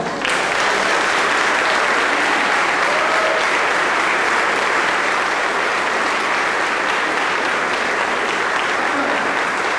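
A church congregation at a Sunday service claps loudly and steadily for about ten seconds, a full dense wash of applause with no pause and little talk beneath it.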